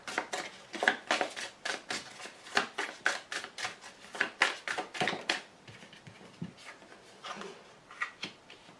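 Tarot cards are shuffled and drawn by hand, making close, dry, rapid flicks and papery snaps in dense bursts that thin into sparser handling toward the end.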